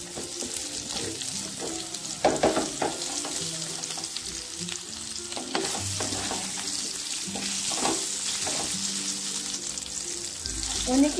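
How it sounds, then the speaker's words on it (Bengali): Pointed gourd frying in hot oil in a wok, with a continuous close sizzle broken by repeated clinks and scrapes of stirring. "তেলটা গরম হয়ে এলে পটলগুলো ভেজে দিতে হবে।"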